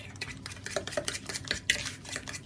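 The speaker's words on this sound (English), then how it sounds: "got to mix up the sugar, eggs, sugar, until smooth" A utensil stirring sugar and eggs into cake batter in a bowl for an apple, almond and pecan traybake, with quick close scraping and clinking strokes against the bowl, irregular and fairly quiet, with no talking.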